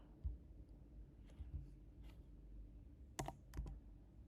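Typing on a Mac computer keyboard to enter a Flutter command: faint, scattered key clicks in an irregular rhythm with a few sharper taps near the end, quiet against a low room hum.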